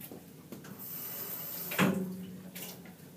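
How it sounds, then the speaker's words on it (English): Tap water runs over a ceramic cylinder being washed before glazing, a steady close rush of faucet water with a brief louder splash and clunk midway as the piece is handled. "Nice and quick under the faucet,"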